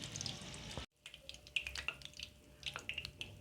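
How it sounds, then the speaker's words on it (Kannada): Bangda mackerel fish kabab frying in oil gives a soft, fairly quiet sizzle with scattered drip-like pops and crackles after a brief silent break, close by with no speech. "ಹೈ ಫ್ಲೇಮಲ್ಲಿ 2 ನಿಮಿಷ ಫ್ರೈ ಮಾಡ್ಕೋಬೇಕು. ಆಮೇಲೆ ಲೋ ಫ್ಲೇಮಲ್ಲಿ 1 ನಿಮಿಷ ಫ್ರೈ ಮಾಡ್ಕೋಬೇಕು."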